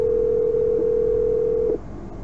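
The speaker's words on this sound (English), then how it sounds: "The number for home at office landline is being dialed." Car phone in an Audi A8L D3 dialing a number: a steady, loud dial tone holds for nearly two seconds, then cuts off, leaving quiet cabin hum.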